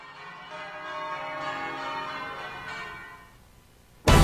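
Twelve cathedral bells rung in sequence at Guildford Cathedral during a change-ringing striking contest, a resonant overlapping chime that swells and then fades before a sudden loud burst of noise at the end.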